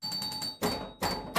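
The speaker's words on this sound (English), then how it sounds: "Well, the pop bumper's working now." Pop bumper firing on an Eight Ball pinball machine, two loud broadband bangs in quick succession over a steady background ring and tone, close and clear with no talk.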